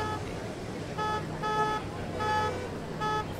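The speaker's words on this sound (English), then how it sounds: "I hear you honking." Car horns honk in the Airport CEO video game, a few short repeated toots spaced out over a low traffic hum, moderately loud and not under talk.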